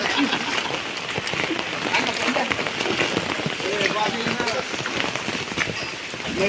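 Heavy rain pours down in Jaffna in a constant dense hiss, with drops spattering on a hard surface nearby.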